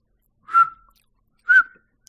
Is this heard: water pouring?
no